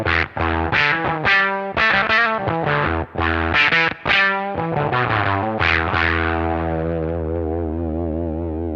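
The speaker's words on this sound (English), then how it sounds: "And this is with the filter side of the Kangra engaged." An electric guitar runs through a Walrus Audio Kangra fuzz pedal with its filter side engaged, giving thick, sweeping fuzzed chords in a rhythmic strummed pattern, then a final chord left ringing and wobbling as it fades.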